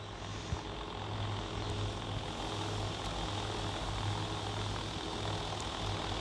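A steady, droning airplane engine hum from the Wings of Heroes combat flight game holds at an even, moderate level without a break.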